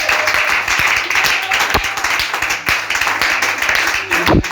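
A church congregation applauds and cheers to acclaim Jesus, giving a loud, dense wash of clapping with a few sharp claps standing out, mixed with voices.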